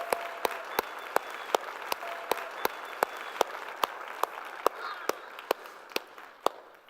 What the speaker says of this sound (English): give everybody one more round of applause